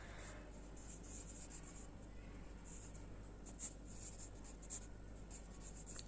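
Pen or pencil writing by hand on paper, a faint continuous scratching with soft strokes and a few light taps, close and quiet against a low steady background hum.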